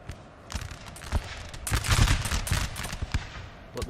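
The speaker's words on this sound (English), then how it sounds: "the volley fire they're receiving is pretty immense" Musket volley fire rings out in a Napoleon: Total War NTW3 mod multiplayer battle, a series of sharp cracks building into a dense, rolling fusillade around the middle before thinning into scattered shots.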